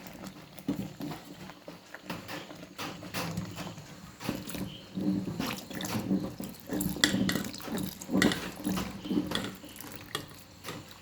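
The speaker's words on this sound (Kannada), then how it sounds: "ಈಗ ಇದಕ್ಕೆ ಹಿಂಡಿ ತೆಂಗಿನ ಹಾಲನ್ನು ಹಾಕ್ಕೊಳ್ಬೇಕು" Coconut milk squeezed and poured into melted jaggery for a milk payasam, a continuous close splashing and trickling with sloshing and dripping throughout.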